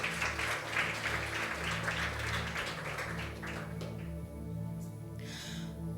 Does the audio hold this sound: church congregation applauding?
yes